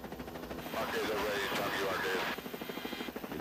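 Rescue helicopter on a mountain air evacuation, its rotor throbbing steadily under a voice that speaks throughout.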